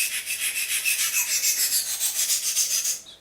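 A knife blade drawn back and forth in a sharpening clamp, giving a bright, raspy scraping in an even rhythm of about twenty close strokes before it stops.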